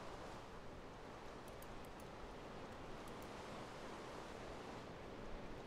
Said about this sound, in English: all we have to do is turn on this little seared faucet